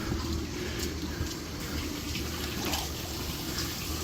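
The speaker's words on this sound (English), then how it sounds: "that sump pump will actually bury itself down into the sand bed, but it won't stop pumping" A sump pump pushes water and sand from a sand bed into a bucket, giving a steady, close rush of flowing, splashing water that stays even and continuous throughout.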